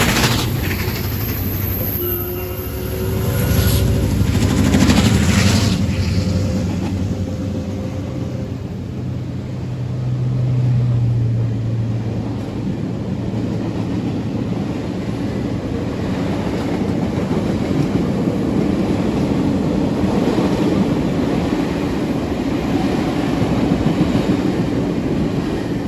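Canadian Pacific 2816, the Empress steam locomotive, passes beneath an overpass at Zwolle, Louisiana. A brief high whistle sounds early on, then a heavy, steady rumble and clatter carries through to the end, with no talking.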